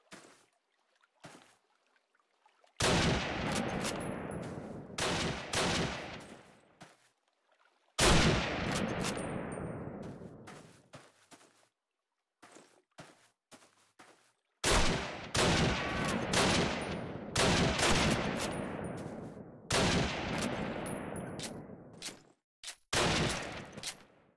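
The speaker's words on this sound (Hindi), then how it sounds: "क्या गोली चला रहा है" Repeated bursts of rapid gunfire from a game, each volley lasting a few seconds, separated by short quiet gaps and scattered single shots.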